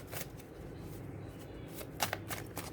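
Tarot cards are drawn from a deck during a Hindi pick-a-card reading, producing soft, close shuffling and flicking rustles with a few crisp card snaps over a quiet background.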